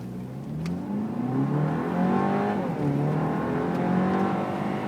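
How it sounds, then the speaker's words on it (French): A Seat Leon FR accelerates hard and swerves, its engine revving loudly and steadily with pitch rising and shifting, heard close from inside the car with no talking. "on accélère à fond, et vraiment un coup de volant sec au dernier moment à gauche, et après à droite"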